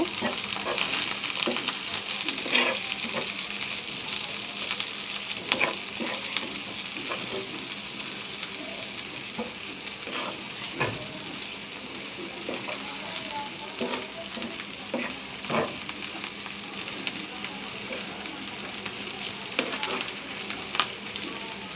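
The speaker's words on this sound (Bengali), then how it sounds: "আমি এখানে 4টা শুকনো মরিচ দিয়ে দিলাম আস্তা। এখন আমি এগুলো ভেজে নেব।" Four dried red chillies fry in hot oil for a water spinach dish, giving a continuous close sizzle broken by scattered sharp clicks and scrapes of stirring.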